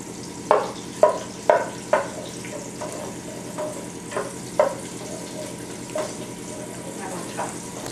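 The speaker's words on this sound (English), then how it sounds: "So our bacon is cooking." Bacon frying in a pan gives a soft continuous sizzle, with several sharp clinks and scrapes of a utensil against the pan, heard close.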